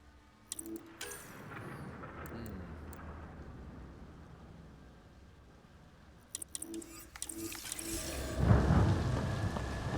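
Rain hisses steadily in a Mass Effect Andromeda game scene, with crackling thunder bursts near the start and again later, swelling into a louder downpour toward the end.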